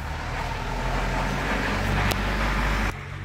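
A truck rumbles past on the road nearby, a loud, broad roar that swells and then cuts off abruptly near the end.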